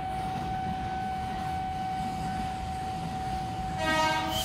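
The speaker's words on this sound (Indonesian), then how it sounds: "Dan di jalur 6 juga ada KRL tuh yang masuk." An electric KRL commuter train entering a busy Jakarta station rumbles steadily with a sustained whine, and a brief horn or high screech rises near the end.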